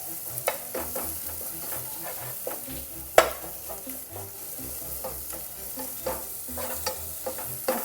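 Spatula stirring sliced onions and mandi masala in a sizzling pan for chicken mandi, soft scraping strokes repeating over a steady frying hiss, close, with one sharper clank of utensil on pan.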